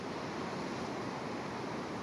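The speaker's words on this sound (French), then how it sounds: "Ici, j'aime l'océan Atlantique, ces vagues fortes" Strong Atlantic Ocean waves at Puerto de la Cruz, Tenerife, make a loud, continuous roar of surf, mixed with buffeting wind noise at the microphone and no break in the wash.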